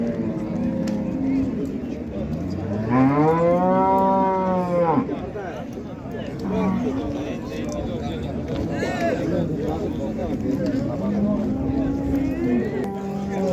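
Cattle at a bustling livestock bazaar in Karshi, with a long, loud rising-and-falling moo early on and further fainter lows later, heard over a constant crowd murmur and nearby talk.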